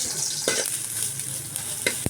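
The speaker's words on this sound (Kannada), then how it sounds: "ಇದನ್ನು ಸ್ವಲ್ಪ ಚೆನ್ನಾಗಿ ಫ್ರೈ ಮಾಡ್ಕೊಳ್ತೀನಿ." Green chillies, onion and curry leaves frying in oil in a pan for South Indian tomato saaru, with a steady close sizzle and a few sharp stirring scrapes.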